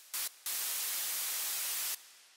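White noise synthesized in Synapse Audio Dune 2 for EDM sweeps and risers, bright full-band hiss in a short burst, then a longer steady blast of about a second and a half that stops abruptly.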